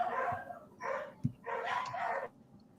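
Dogs bark and whimper in short yelping bursts, heard faintly through a poor-quality online voice call with no one talking over them.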